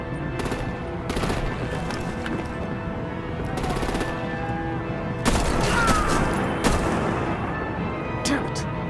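Video game combat with artillery and gunfire: repeated loud broadband bursts and volleys of shots, some heavier booms standing out, over a constant dense battle din with faint voices mixed in.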